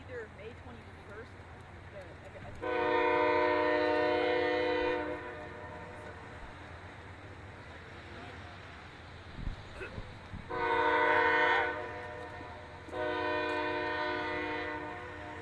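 A circus train on a mainline run sounds its horn in three long blasts, the second brief and the others lasting a few seconds, loud and fairly near over a steady rumble of rolling cars.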